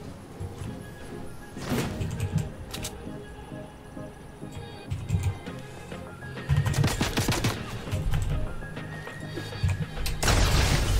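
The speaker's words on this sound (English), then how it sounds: "I threw the gas can, then I threw the nade, and it all blew up on him!" Gas can and grenade blowing up together in Fortnite, a chaotic run of bursts and crashing impacts with a big blast near the end, loud and busy over game noise.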